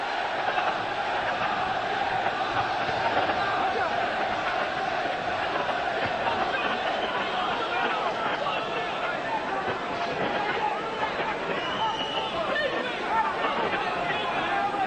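A boxing crowd at an Atlantic City arena keeps up a steady roar of chatter and cheering throughout, a continuous murmur beneath a commentator's voice.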